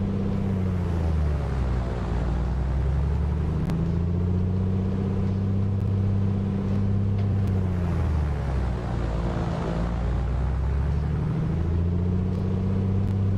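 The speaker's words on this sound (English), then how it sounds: "let's exercise the prop 3 times." Simulated A2A Comanche 250 piston engine in Microsoft Flight Simulator 2024, held at a steady loud drone while the propeller is exercised, the pitch dipping and recovering in slow cycles; no talking.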